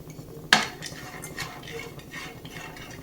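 Dry dates and raisins being roasted in a pan, opening with a sharp metallic clank of a spoon against the pan, then light scraping and stirring sounds.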